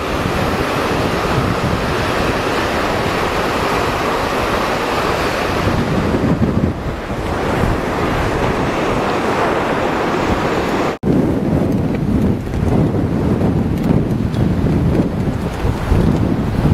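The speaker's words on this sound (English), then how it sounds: "Lake Michigan in all of her fury" Stormy Lake Michigan surf crashing constantly under strong gusting wind that buffets the microphone, a loud, dense roar of breaking waves with no pause.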